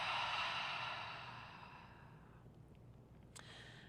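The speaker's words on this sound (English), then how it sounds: "And then exhale, open the mouth side out, let it go." A single long, breathy exhale pushed out through an open mouth during a yoga power flow, loud at first and trailing off gradually over about two seconds into quiet room tone.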